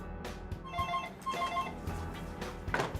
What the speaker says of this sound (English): Alex makes a call to her phone posing as a representative from her bank